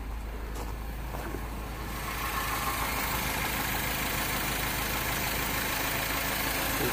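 A Mini Cooper S R56 with high-pressure fuel system faults idles steadily, a continuous even engine drone that grows slightly louder after the first couple of seconds.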